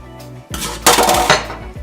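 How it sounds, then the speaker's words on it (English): A spoon mixes sushi seasoning through rice in a bowl, giving a few loud, close clinks and scrapes of metal against the dish in quick succession. "you just want to mix that all through the rice"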